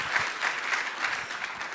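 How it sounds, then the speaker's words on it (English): Brief, dense clapping from an audience at a sales event, a continuous rattle of many hands that stays level throughout with no voices over it. "clap that up"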